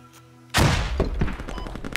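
A grenade detonates in the military shooter game Squad, a sudden heavy boom followed by crackling debris and scattered gunfire, loud and close after a quiet moment.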